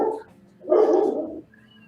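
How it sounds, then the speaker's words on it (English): A dog barks indoors in a short, mid-distance burst of a few loud woofs, with quiet room tone before and after. "Dog alert."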